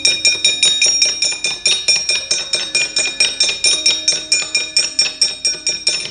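Javanese gamelan accompanies a wayang shadow-puppet performance: bright, metallic bell-like strikes repeat in a steady, fast pulse, loud and close, with lower gong tones sustained beneath and no voices.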